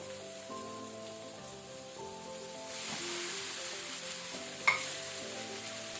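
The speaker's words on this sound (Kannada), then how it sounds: "ಒಳ್ಳೆ ರೀತಿ ಮೀಡಿಯಂ ಟು ಹೈ ಫ್ಲೇಮಲ್ಲಿ ಒಮ್ಮೆ ಮಿಕ್ಸ್ ಮಾಡ್ಕೊಳ್ಳಿ ಇದನ್ನು" Cooked rice stirred and fried in a pan over medium-high flame for tomato rice, a steady soft sizzle with scraping stirs and one sharp clink of the utensil, no talk.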